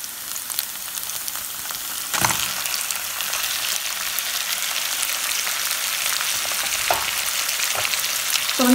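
Finely chopped tomatoes sautéing in hot oil in a pan for an egg paniyaram curry, giving a steady close sizzle with occasional stirring scrapes and clinks throughout.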